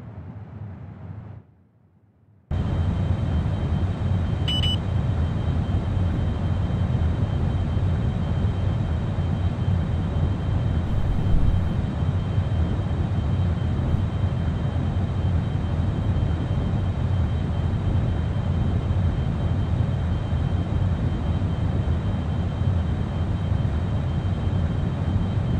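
Steady, unbroken engine roar of the Delta Glider cruising at high speed in the Orbiter 2016 flight simulator, a constant dense rumble that starts abruptly after a brief quiet moment and holds level throughout with no talking.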